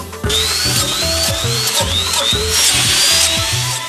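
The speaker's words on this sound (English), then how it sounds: "The first step is to drill holes into the log." A power drill whines and bites into a log in several short bursts, its pitch rising and falling as each hole is bored, loud and close.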